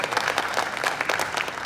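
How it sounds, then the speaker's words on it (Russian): An audience claps for dance contestants at a ballroom competition, a short burst of steady, moderately loud applause with faint crowd murmur. "Друзья, поддержим еще раз наших участников аплодисментами."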